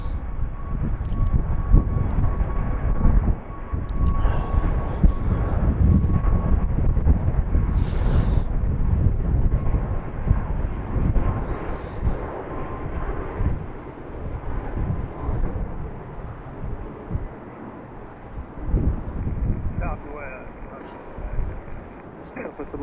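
A Southwest airliner takes off from a runway at BWI airport in Baltimore, a broad jet engine roar swelling and then slowly fading, with wind buffeting the microphone and a voice talking over it.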